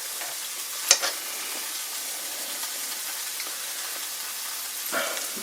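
Hamburg steak frying in a cast iron pan: a steady close sizzle and hiss runs throughout, with a sharp clack near the start and a brief stirring scrape toward the end.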